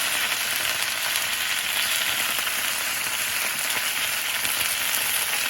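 Potatoes fry Russian style in a hot pan over high heat, giving a steady, dense sizzle that holds level and close throughout with no voices.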